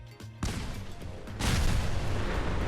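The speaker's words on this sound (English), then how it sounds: "After a few more explosions, I make my way to the exit and ride the elevator up." Car explosions in Fallout 4 set off a chain reaction inside a vault: a sudden loud blast after a brief quiet start, then a second heavier burst around the midpoint, followed by sustained rumbling booms with no talk.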